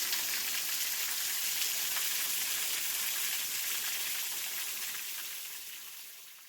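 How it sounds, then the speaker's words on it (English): Water pours steadily at a waterfall in Tishomingo State Park, a constant broadband hiss and rush heard alone, even and fairly soft before fading slightly at the end. "just listen to the waterfall"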